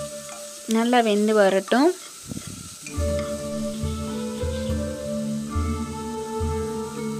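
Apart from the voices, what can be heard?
stirring Aachi biryani masala in a pot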